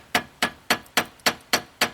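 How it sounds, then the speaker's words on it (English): A hammer taps a screwdriver to seat a car brake part, giving seven sharp metallic strikes in an even, steady rhythm, close and clear with no talk. "A screwdriver and a hammer. Keep tapping that until it's all the way recessed."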